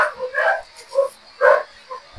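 A dog barks several times in short, uneven bursts, moderately close and fairly loud, with little else audible in the room.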